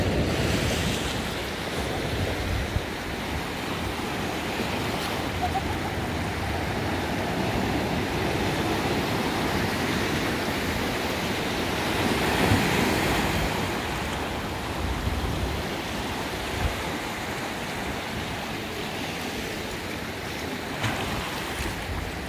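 Ocean surf rolls in steadily at a quiet California beach lined with houses, a continuous broadband wash of breaking waves with wind buffeting the microphone throughout and no voices.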